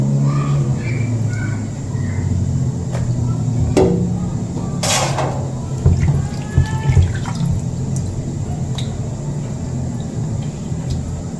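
Chicken liver and gizzards are rinsed under running tap water in a sink, a steady close splash and trickle with occasional clinks and knocks, and some talk in Filipino.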